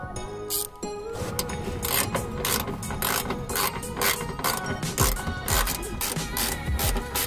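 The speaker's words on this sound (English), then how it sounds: "Next step is to remove the 10mm bolts that are hidden right up under here." Ratchet clicking as 10mm bolts come out from under the front bumper of a 2003 Honda S2000, a fast continuous ratcheting close to the microphone.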